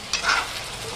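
Pumpkin with salt, jaggery and lemon is stirred briefly in a pan, a single close scrape over a faint sizzle.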